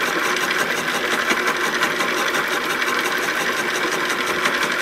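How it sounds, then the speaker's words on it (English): A slitting saw cutting metal between two holes in a steel holder for a gear-cutting button tool, a continuous high whirring buzz held at even loudness throughout, close up. "Slitting saw is just opening up the section between the two holes in the holder."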